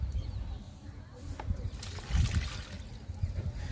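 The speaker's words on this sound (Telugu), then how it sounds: "రణపాల మొక్కకి ఇచ్చేద్దాము లిక్విడ్ని." Liquid trickles and splashes softly onto a Ranapala plant, faint and close, with small uneven bursts of dribbling and a slightly stronger pour partway through.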